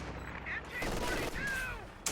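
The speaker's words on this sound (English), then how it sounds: "But that's the anti-infantry strafe coming in." Anti-infantry strafing run from an aircraft in a World War II strategy game match, rapid gunfire crackle with swooping aircraft tones, moderately loud against ongoing battle noise.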